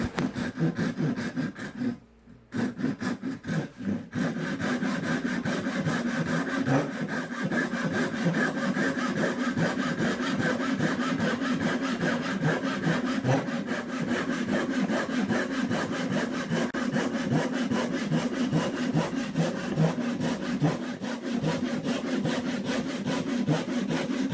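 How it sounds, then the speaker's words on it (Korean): Steady back-and-forth strokes of a hand saw cutting through wood, continuous and close, with a brief pause near the start. "두 번째 톱질 작업입니다"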